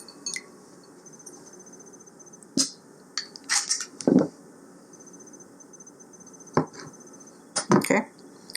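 A knife slices through peeled smoked eggs on a board after cooking on a Pit Boss pellet grill, producing a few soft, brief taps and cuts spread apart, quiet and close, with someone talking now and then.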